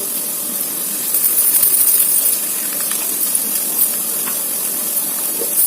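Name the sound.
egg frying in a pan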